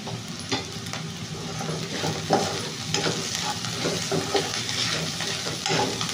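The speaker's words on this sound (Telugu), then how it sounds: "ఆనియన్ ఇంకొంచెం మనకు ఫ్రై అవ్వాలండి, సరిపోతుంది మనకి ఈ మాత్రం ఫ్రై." Onions sizzle in a pan with green chillies and a little salt for an egg curry. A steady, close frying hiss runs under repeated scraping stirs of a utensil against the pan, with no voices.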